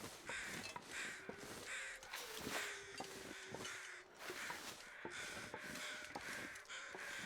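Crows caw repeatedly in The Long Dark, harsh calls arriving in uneven bursts over steady wind-like game ambience, fairly close and loud throughout.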